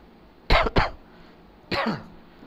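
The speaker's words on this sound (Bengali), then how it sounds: "80 বছরের বুড়ার মতো কাশি।" A person gives two quick dry coughs in a row, then, after a short pause, one more harsh cough, close and moderately loud in a quiet indoor room.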